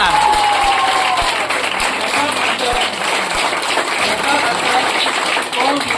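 Applause from a crowd at a joint Babasaheb Ambedkar and Gautam Buddha birth-anniversary festival: sustained, dense clapping filling the space, loud and even throughout, with faint low thumps beneath.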